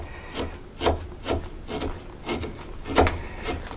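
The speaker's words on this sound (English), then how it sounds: "been cut 71 inches of these disposable chopstick, and I'm on the last inch" A knife slices through disposable bamboo chopsticks in close, rhythmic rasping strokes, about seven distinct woody scrapes evenly spaced across the span, with no voices.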